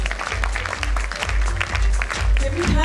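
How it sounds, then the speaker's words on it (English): Audience clapping at an award ceremony for a college foundation day, steady, moderate applause throughout with a low hum underneath and no one speaking. "Can we have some louder applause, please?"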